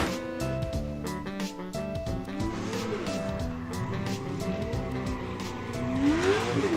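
A drift car at a Formula Drift Prospec qualifying round in St. Louis 2023 revs hard, engine roaring loud and continuous with rising pitch sweeps and tire squeal near the end, over crowd and venue noise.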